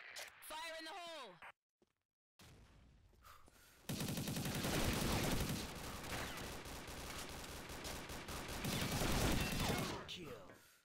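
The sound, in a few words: P90 submachine gun gunfire in video game Combat Arms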